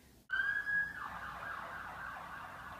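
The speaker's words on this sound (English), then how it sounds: "Trying not to get the sirens in the video." Emergency siren starting abruptly and holding a loud, steady wail with a falling sweep, heard from the street and continuing without talk.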